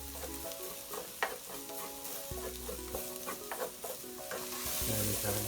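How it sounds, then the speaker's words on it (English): Vegetables for a vegan shepherd's pie sizzling steadily in a pan, with a spoon stirring and scraping at intervals, the frying hiss constant and close throughout. "And let them fry"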